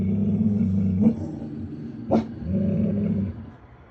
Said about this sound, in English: The dogs were barking.